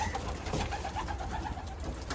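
Racing pigeons coo softly in low, throaty murmurs, several birds nearby in a loft over a constant background rumble.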